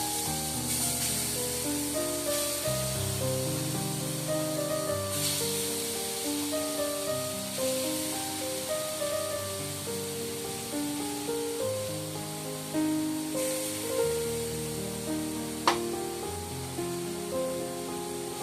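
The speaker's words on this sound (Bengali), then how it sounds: "এবারে পেস্ট করা নারকেলটা দিয়ে দিচ্ছি।" Grated coconut paste sizzles steadily in a pan over a low flame, a continuous soft hiss with faint clinks of a utensil stirring, and no voices.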